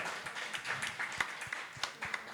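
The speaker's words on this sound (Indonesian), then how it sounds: "sekali lagi tepuk tangan untuk Mahesa Ludro" An audience applauds for Mahesa Ludro, a moderate round of scattered hand claps with irregular sharp hits, fairly close and steady throughout the short stretch.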